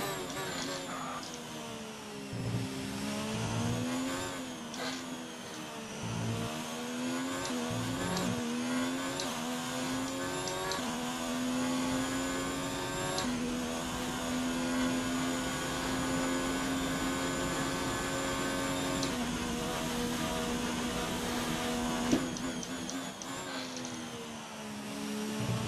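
A race car in a Formula-style racing video game climbs back to speed after an incident, its engine whining and rising through repeated gear changes in a long, steady, close drone with no talking.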